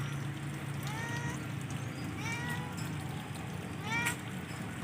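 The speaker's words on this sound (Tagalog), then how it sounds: "ito yung pusa natin guys oh" A cat meows several times, short rising-falling calls spaced a second or so apart, over a noisy background with faint voices.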